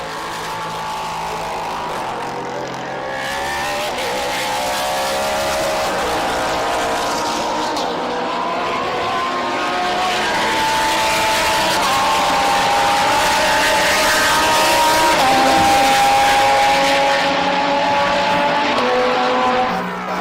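Race cars lap the Brno circuit during a GT and sports car race, engines droning loudly and continuously with rising and falling pitch as they pass, no talk over the sound.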